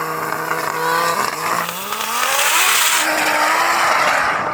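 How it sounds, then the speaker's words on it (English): A Lamborghini Huracan and a Rimac Nevera launch side by side in a drag race, with loud rising engine and drivetrain whines sweeping upward in pitch, layered roaring and tire noise, close and intense. "Let's get into the drag racing."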